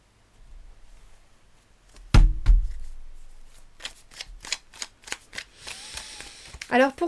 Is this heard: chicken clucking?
no